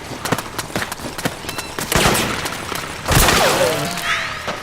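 Gunfire from Metal Gear Solid 4: Guns of the Patriots, with sharp shots in rapid, irregular bursts and heavier volleys swelling midway. Shouting voices and whistling tones mix in with the shooting.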